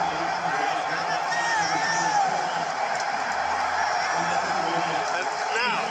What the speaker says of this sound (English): And now listen to the National Stadium. It's got the crowd going